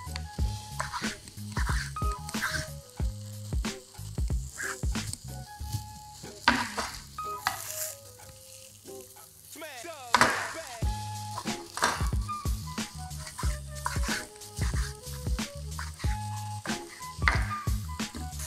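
Chicken fillet sizzles and crackles in a hot frying pan as it browns, turned with tongs, a steady close frying hiss under a melodic music track.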